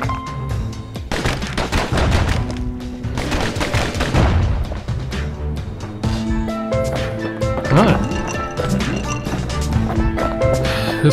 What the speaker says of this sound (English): Alright, guns are blazing.